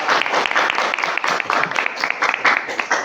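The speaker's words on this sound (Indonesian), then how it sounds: "Kasih tepuk tangan dong." Applause from an audience at a school podcast event, a dense burst of clapping that holds steady for several seconds at close range with no talk over it.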